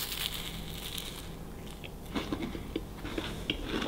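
Someone bites into and chews a Kinder Bueno combined with a Country chocolate bar, making a few crisp crunching bites and chewing sounds up close, with no talking.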